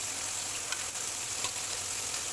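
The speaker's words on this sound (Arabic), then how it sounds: "ان هو كله خد تشويحة كده محترمة مع التوابل والزيت" Rice being stir-fried with spices and oil makes a soft, steady sizzle with a few light scrape-like ticks and no speech.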